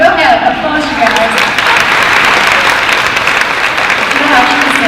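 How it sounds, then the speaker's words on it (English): Loud, continuous applause from the audience at the 2019 Bakersfield Women's Business Conference, close and dense, with a voice starting to speak over it near the end. "go ahead, applause you guys"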